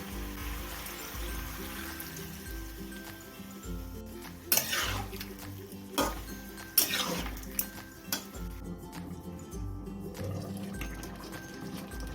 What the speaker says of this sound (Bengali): এবার এর মধ্যে দিয়ে দেবো দুধ